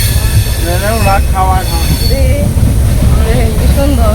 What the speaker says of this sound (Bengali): এই যে ট্রেনে উঠছি